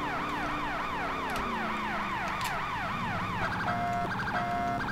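A fire truck siren in the GTA video game wails in fast repeating rising sweeps, then switches to a steady yelp with short pauses, loud and continuous over traffic noise.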